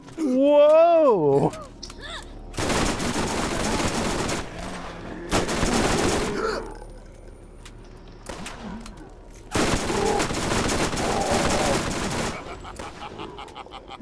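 Bursts of rapid gunfire from the video game Borderlands, its Game of the Year Edition, come in several long loud volleys separated by short pauses, with excited exclamations and game voices mixed in.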